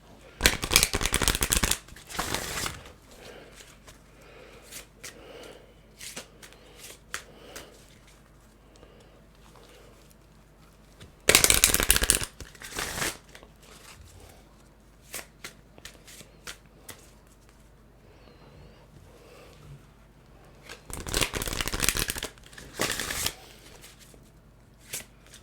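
A deck of reading cards is shuffled by hand in three loud riffling bursts, separated by quiet stretches with small taps and handling sounds.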